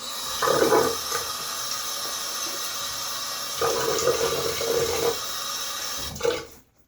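A bathroom tap runs steadily at the sink while a man wets his face before a wet shave. Splashes swell at intervals over the stream, and the flow stops abruptly at the end.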